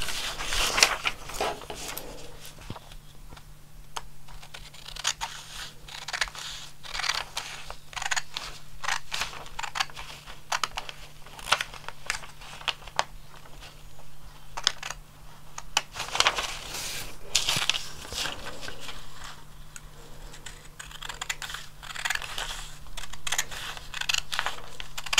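Scissors cutting through a paper sewing pattern for a self-drafted top, including through the center of a dart, with repeated crisp snips and paper rustling, close, in irregular bursts over a low steady hum.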